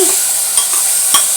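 Spices stirred and sautéed in a pot for chicken soup sizzle with a bright hiss, punctuated by two or three quick spoon scrapes against the pot, close and loud.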